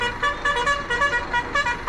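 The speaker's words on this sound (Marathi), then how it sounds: "हॉर्न मारतो एकदम जबरदस्त" Horn of a passing luxury bus on a Konkan route, a loud near series of rhythmic melodic honks repeating in short bursts for the whole stretch.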